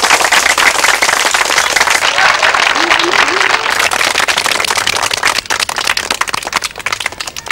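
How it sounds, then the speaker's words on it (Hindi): Loud applause from an audience after a staged family drama piece: thick, crackling hand clapping that holds steady for several seconds, with a few voices calling out beneath it, and the clapping thins slightly near the end. "अगर आप लोगों को पसंद आई हो तो जोरदार तालियां"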